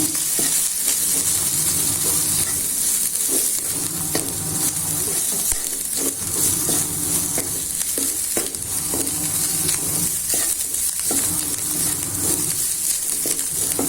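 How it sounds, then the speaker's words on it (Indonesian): Beef sizzles and fries in a pan while being stirred, a close, steady crackle broken by repeated scraping and knocking of the utensil against the pan. "Dan ini untuk daging sapinya saya masukkan."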